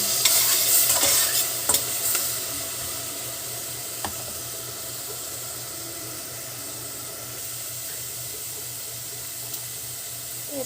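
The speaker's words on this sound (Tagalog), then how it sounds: "Sangkot lang natin bago natin ilagay ang ating hipon." Shrimp and squash dish base being sautéed in a pan with fish sauce and ground pepper: a soft, steady sizzle under repeated scraping stir strokes and a few sharp utensil clicks, with no talking.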